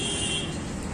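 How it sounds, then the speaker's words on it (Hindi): A continuous electronic beep from a Nippon multimeter checking a TVS Star City 110 motorcycle armature coil: one loud, steady, high tone held for the whole moment, alone and without talk. "बीप साउंड आप सुन पा रहे हैं"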